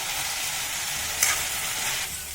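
Snake gourd pieces roast in a pan for a home-style sabzi, giving a constant, fairly loud hiss and sizzle with one brief scrape of a utensil partway through and no voices.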